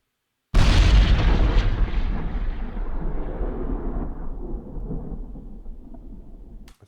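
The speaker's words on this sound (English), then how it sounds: "Here's a bomb explosion." A single bomb explosion sound effect hits with a sudden deep boom, then a long rumbling roar that slowly fades over several seconds, alone with no talking.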